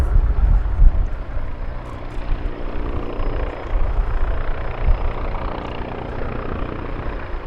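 An Agusta AH-129D Mangusta attack helicopter drones steadily at an air show, with deep rotor thumping and engine whine, fairly close and loud, continuing throughout with no voices.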